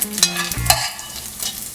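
Bacon frying crisp in a pan gives a close, loud sizzle with a quick scrape of stirring, brief and unaccompanied by talk.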